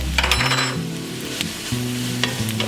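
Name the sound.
garlic sizzling in a cooking pan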